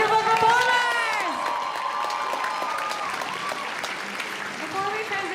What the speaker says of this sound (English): Can we get another round of applause for all our wonderful performers?